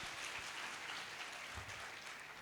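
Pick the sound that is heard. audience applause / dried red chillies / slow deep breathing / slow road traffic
audience applause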